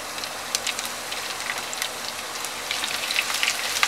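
Garlic cloves and asafoetida hit hot oil already crackling with cumin over a medium flame, making a steady, close sizzle with scattered sharp spits and pops that grow denser toward the end.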